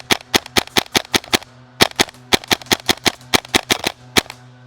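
Modify PP2K airsoft gun with a Tapp HPA adapter firing in semi-auto, a close series of sharp, loud pneumatic cracks in quick uneven bursts of single shots with brief pauses, no talk.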